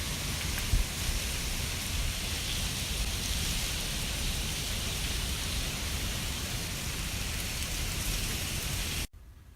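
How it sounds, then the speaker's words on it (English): A major storm in Ohio drives rain and ice down in a dense, even roar of drops striking surfaces, loud and continuous for several seconds before cutting off abruptly, with no voices. "there's a major storm that's coming through Ohio here. I'm getting a lot of just ice."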